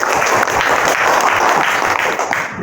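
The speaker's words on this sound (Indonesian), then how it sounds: "Tepuk tangan untuk kelompok 2." A classroom of students applauding group 2 after their presentation: loud, dense, continuous clapping that holds for a couple of seconds before easing off.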